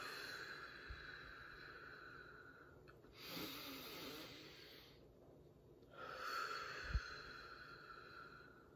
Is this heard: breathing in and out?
yes